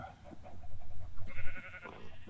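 Sheep in a farming video game bleat in a short run of wavering, nasal calls over a low, steady game backdrop, close and fairly loud.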